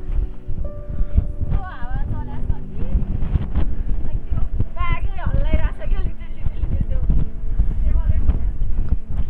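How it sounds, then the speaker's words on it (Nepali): Strong wind gusts buffet the microphone on a steep uphill mountain trail on the Pikey Peak trek in Nepal, a continuous low roar of wind running beneath a person talking throughout. "अनि यहाँनिर यस्तो हावा चल्छ है त"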